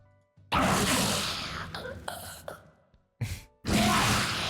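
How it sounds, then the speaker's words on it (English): Harsh, breathy rasping and choking gasps of a dying dragon in League of Legends, in rough bursts separated by brief silences, with a final long strangled exhale. "It's almost like choking."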